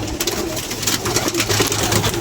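Lahori pigeons coo steadily at close range, overlapping calls with scattered wing flutters and rustling throughout.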